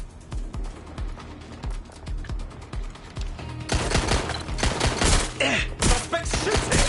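Gunshots in Watch Dogs Legion, a string of sharp repeated shots that grows into a denser, louder volley of rapid fire in the second half.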